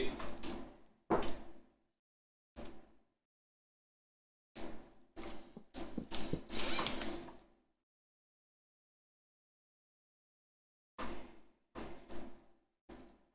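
A door closed during a tabletop board game session, heard as a few separate knocks and thuds spread over several seconds with silent gaps between them.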